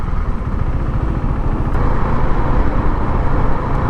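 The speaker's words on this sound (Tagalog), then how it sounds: "Grabe, lupit ng traffic, oh." Heavy road traffic in Dubai, a dense, steady roar of car and motorcycle engines and tyre noise close by, constant with no pauses.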